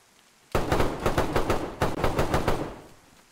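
Automatic gunfire during an online base raid in a shooter video game: a close, loud string of rapid shots in two bursts, with a brief gap in the middle, then fading into quiet.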